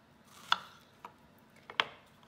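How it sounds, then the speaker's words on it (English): A knife slices the tops off two or three large strawberries on a board, giving a few sharp, separate cuts spaced about a second apart, close and fairly quiet, with no talking. "You are going to cut off the tops of them."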